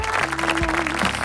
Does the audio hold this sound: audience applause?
yes